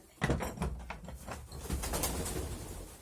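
Pet pigeons coo in a steady run of soft, low, throaty calls close by, with a little rustling and movement around them and no talking.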